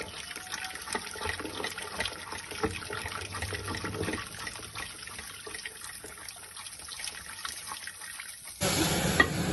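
Tomato dal simmers in a pot, a soft, steady bubbling and watery wash that runs throughout, ending in a brief louder burst near the close.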